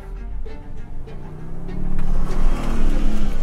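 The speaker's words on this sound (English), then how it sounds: "we're gonna charge that again to try to get mud off" A 2023 Toyota Sequoia Limited Hybrid TRD Off-Road charges through slippery mud on a trail, its engine note swelling steadily louder over a few seconds, close and alone without any talk.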